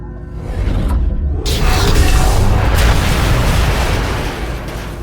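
Heavy bombardment explosions from Star Wars: The Old Republic, a continuous loud rumbling barrage of booms with bursts and whooshes sustained throughout, no speech.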